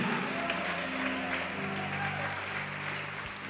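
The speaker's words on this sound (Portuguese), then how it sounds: "Pode aplaudir" A church congregation applauds in a sustained wash of clapping, with some voices and tonal sound beneath it, easing slightly toward the end.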